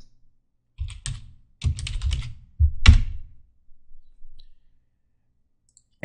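Close, crisp clicks of a computer mouse and keyboard keys come in short bursts with pauses between, while files are handled in Windows Explorer on a desktop; no one speaks.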